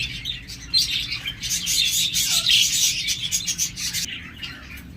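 Pet diamond doves and budgerigars in cages, a busy chorus of high chirps, tweets and chattering calls rising and falling for several seconds, with some rustling underneath.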